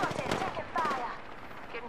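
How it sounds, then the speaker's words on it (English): Apex Legends gunfire, rapid shots muddled under voices and game sounds, fairly faint and brief. "Getting shot at."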